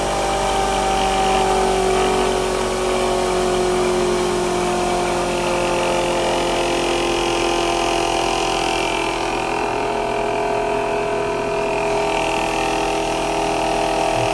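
A QMoGen generator fitted with pancake coils runs under electrical load, giving a steady mechanical drone with layered tonal hum that barely changes, close and continuous with no speech.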